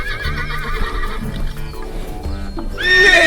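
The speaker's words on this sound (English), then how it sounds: "It's a horse." A brown horse neighs near and loud, a wavering whinny that builds into a high shrill squeal at the end, with faint hoof clops underneath.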